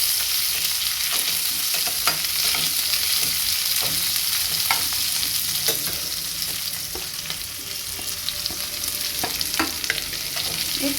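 Onion, garlic and chili frying in a pan for a taro-leaf dish, with a steady close sizzle and scattered clicks of stirring throughout, no voices.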